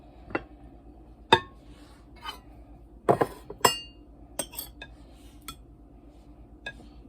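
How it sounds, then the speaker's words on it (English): Scattered metallic clinks and knocks as baking pans are handled, greased and set down, with a faint steady hum in between. "I'm going to grease up my pans here."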